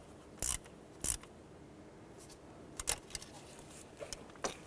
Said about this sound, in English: So once you have your fuel rail bolts in, and go ahead and get these snug down.